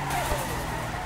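Tires skid in a drawn-out squeal as a Nissan S15 drifts in the racing game Torque Drift, a loud continuous screech over engine drone, steady for about a second.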